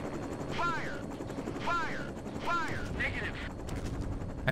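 A helicopter in the game Operation Flashpoint drones with a steady engine and rotor hum, overlaid by repeated sweeping whines and mechanical noises, while someone talks at moments.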